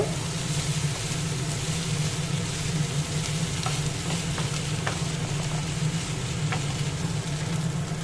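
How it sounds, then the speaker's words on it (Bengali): Finely chopped chicken fries together with onion in a pan for chicken patties, an even close sizzle over a low steady hum, with a few light clicks of stirring. "এবার এই চিকেনগুলোর সাথে আমি পেঁয়াজটাও একসাথে ভেজে নেব।"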